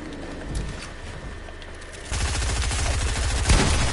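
Rapid gunfire bursts in a Fortnite match, a quieter volley giving way to louder, sustained automatic fire with a sharp spike near the end, no talk over it.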